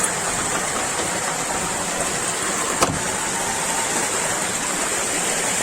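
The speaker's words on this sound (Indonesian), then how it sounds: "gemuruh juga air nih. Airnya cukup berisik ke videonya" Water rushes steadily nearby, a loud continuous broadband roar of flowing water that fills the whole stretch with only a brief tap near the middle and no talking.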